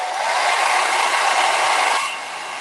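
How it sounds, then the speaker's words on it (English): A hair dryer blowing on a craft project with a steady, loud whooshing roar that drops to a lower setting near the end. "Okay, so I'm going to blow dry this. Got my blow dryer."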